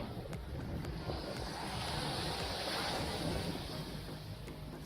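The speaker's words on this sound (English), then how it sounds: "There's quite a little bit of wind" Wind blowing steadily across a UK beach on the way to Bournemouth, a constant broad rushing hiss with faint surf-like wash and occasional small clicks, with no break throughout.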